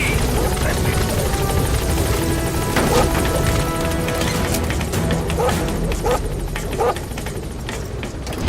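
The Pequod helicopter from Metal Gear Solid 5 settles at a landing zone, its loud rotor and engine roar running continuously, with radio voice chatter and game sounds over it.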